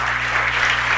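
Audience applause at a city council meeting: a dense, steady patter of clapping, loud and close, lasting about a second over a low electrical hum.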